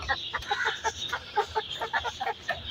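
Several chickens cluck in short, irregular bursts nearby as they are let out of their enclosure, with a steady high hiss in the background and no talking.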